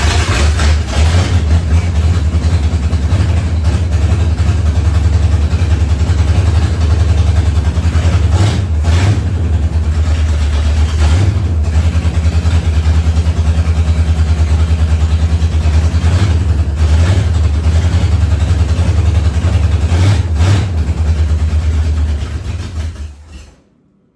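1968 Ford Torino V8 running after two decades parked in a barn, a loud, deep, steady idle with a few brief revs, continuous for the whole stretch before cutting off at the end.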